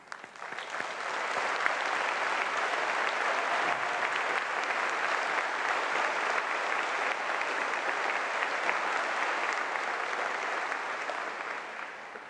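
Sustained applause fills a graduation ceremony at Francis Scott Key High School, a large audience clapping densely and evenly, swelling quickly and holding steady for about ten seconds before tapering, with no voices over it.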